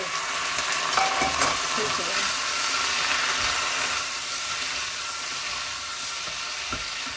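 Garlic frying in a pan, a loud steady sizzle that goes on the whole time with occasional scraping stirs, close up and with no voices.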